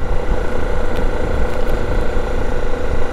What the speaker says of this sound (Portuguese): Até o barulho da moto muda.